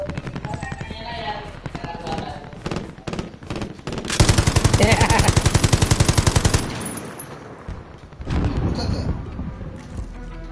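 Rapid automatic gunfire in Call of Duty Warzone Zombie Royale on PS4, loud bursts and a sustained stream of shots over game sounds, with players talking throughout.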